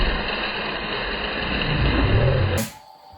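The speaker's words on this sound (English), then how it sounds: "Hear that rustling? That engine revving?" An RC stunt car's small motor whirs steadily and rises slightly in pitch, then cuts off abruptly near the end, leaving only quiet background.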